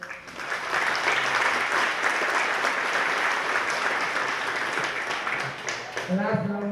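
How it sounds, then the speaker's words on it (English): Steady, dense applause from a gathering at a hurling club event honoring parents and players, sustained and fairly loud throughout, with a voice starting to speak near the end. "and a round of applause to all the parents and the players"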